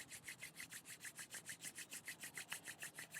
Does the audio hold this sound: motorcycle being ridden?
no